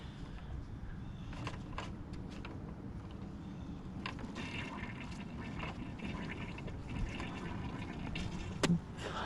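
Antifreeze drains from a Ram 1500 radiator as a faint, continuous liquid trickle, with scattered clicks and handling noises and a sharper clunk near the end.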